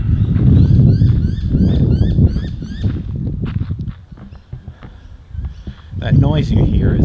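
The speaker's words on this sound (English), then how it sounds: "noise you hear is the noisy miner" Noisy miner birds call in a series of repeated chirps over close, loud speech, with scattered sharp calls and rustling in between during an outdoor walk.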